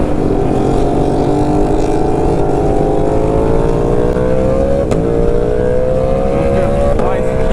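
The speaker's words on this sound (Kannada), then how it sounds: "ಸೂಪರ್ ಬೈಕ್ಸ್ ಸೌಂಡ್ ಎಷ್ಟು ಕ್ರೇಜಿ ಆಗಿತ್ತು ಗೊತ್ತಾ ಮುಂದೆ ಕೇಳಿ" Superbike engines roar on a group ride, a loud continuous drone whose pitch climbs steadily as the bikes accelerate, with a couple of sharp knocks along the way.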